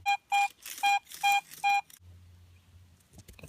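Metal detector signalling a strong target at a colonial cellar hole in New Hampshire, sounding five loud, clean, evenly spaced tonal beeps, followed by quieter rustling and handling noise.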